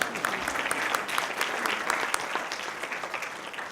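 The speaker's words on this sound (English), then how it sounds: "so if you don't mind clapping, that's fine." An audience at an awards night claps in dense, steady applause, the sound of many hands close and continuous throughout, with no speech over it.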